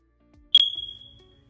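A single sharp electronic beep rings out, a high clean tone like a smoke alarm chirp that sustains for about a second and fades, heard alone against near silence.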